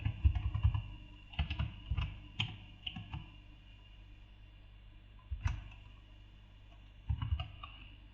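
Computer keyboard being typed on while entering a name, short bursts of close clicking keystrokes separated by pauses.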